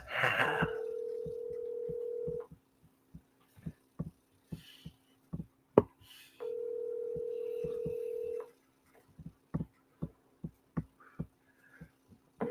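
Phone dialing during a livestream: two long steady dial tones, each about two seconds, alternating with runs of short, evenly spaced keypad beeps, clear and alone with no talking.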